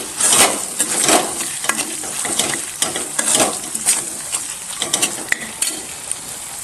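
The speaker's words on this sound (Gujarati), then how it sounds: "આ બધી વસ્તુને થોડીક વાર શેકાવા દેશું" Spices for methi sabzi, among them coriander powder, garam masala and salt, roasting in a pan with a steady close sizzle and repeated scraping stirs throughout, with no voices.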